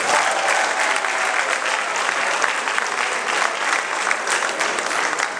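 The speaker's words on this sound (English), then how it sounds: "You guys should clap for yourselves" Audience applause at a speech to a crowd, steady dense clapping filling the whole stretch, loud and close with no pause.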